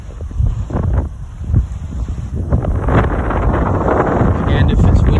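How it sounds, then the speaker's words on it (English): Gusty wind blasts loudly against the microphone in rumbling bursts, growing stronger and more continuous toward the end, with a voice partly buried beneath. "It's very windy."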